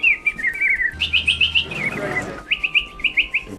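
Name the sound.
human imitating bird whistle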